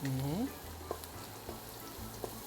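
Garlic sizzles steadily as it fries in a pan for curry chataigne, a close, continuous crackling hiss with a few faint clicks, while a voice speaks briefly at the start.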